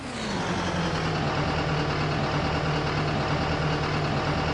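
Farm vehicle engine idling in Farming Simulator 19, a loud, steady, unbroken diesel rumble with no voices over it.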